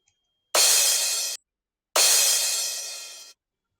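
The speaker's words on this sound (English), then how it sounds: "Here I have a crash, very simple one." A simple crash cymbal sample in a hardgroove techno track, struck twice in isolation, each hit a loud bright wash that sustains for under a second and then cuts off sharply.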